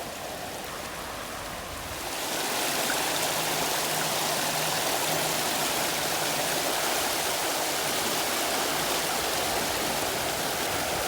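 Stream water flows toward a waterfall at Garner State Park in Texas, a steady, broad rushing wash that swells louder after two seconds and then holds constant and close.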